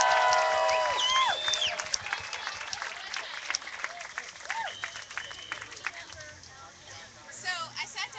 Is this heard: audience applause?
yes